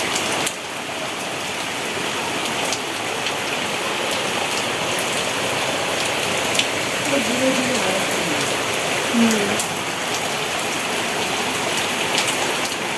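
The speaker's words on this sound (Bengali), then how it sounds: "বৃষ্টি কেমন চেপে চেপে পড়ছে ঝেপে ঝেপে ঝড়ও হচ্ছে" Heavy storm rain pours in a dense, continuous roar that fills the whole stretch, with a brief voice speaking softly underneath.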